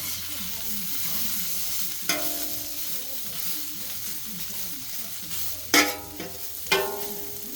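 Chicken and cheese schnitzels frying in oil on a flat top griddle, a steady close sizzle with a few sharp metallic scrapes and clinks from a utensil, no speech.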